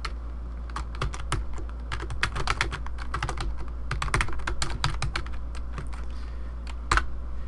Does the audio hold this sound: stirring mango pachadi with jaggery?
no